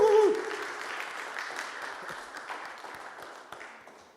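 A church congregation applauds, a steady patter of many hands that is loud at first and then thins out and fades, with faint voices underneath.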